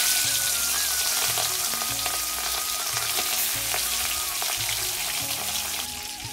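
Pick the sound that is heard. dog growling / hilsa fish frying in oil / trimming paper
hilsa fish frying in oil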